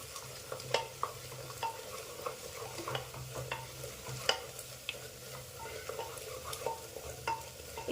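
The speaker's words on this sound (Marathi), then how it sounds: "खोबरे लसूण अद्रक आणि कोथिंबीर ते देखील परतून घ्यायचं आहे तेलामध्ये चांगलं" Coconut, garlic, ginger and coriander paste being sautéed in oil, a low steady sizzle broken by frequent spatula scrapes and taps against the pan, close but fairly quiet with no voices.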